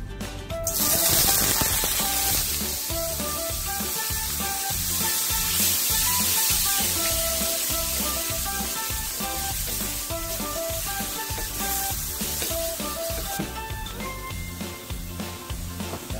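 Squid sizzles and fries in hot oil in a pan, a loud, continuous hiss close by, with occasional stirring knocks underneath.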